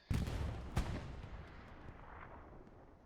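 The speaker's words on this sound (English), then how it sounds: "Artillery takes them out in return." Artillery fire in the Hell Let Loose WWII shooter during a large multiplayer battle: a heavy boom hits at once, a second blast follows under a second later, then rumbling echoes fade slowly into the distance.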